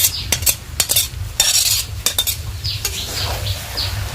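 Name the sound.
carrots, beans and peas being stirred and fried in a pan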